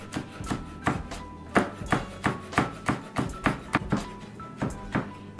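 A knife chops cayenne pepper finely on a cutting board for vegan lentil soup, a quick run of about a dozen crisp, evenly spaced taps, close and moderately loud with no talking.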